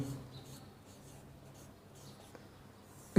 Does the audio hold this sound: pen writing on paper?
yes